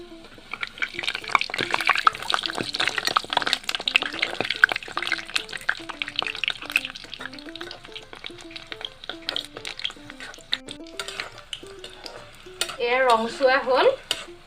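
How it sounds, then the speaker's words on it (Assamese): Katakoli pitha frying in hot oil, a few pieces at a time, give a steady close-up sizzle with occasional stirring clatter, while a voice talks throughout over the crackle. "মচমচিয়াকে ৰংচুৱাকে ভাজিব লাগিব"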